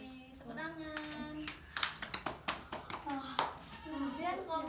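In a tutoring classroom, a small group of children claps, scattered and uneven, with sharp close claps mixed in among children's voices talking over them.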